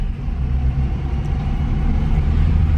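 A Maruti Omni van accelerates in second gear, its engine a loud, steady low rumble heard from close by throughout.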